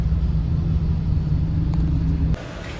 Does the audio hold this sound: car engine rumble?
yes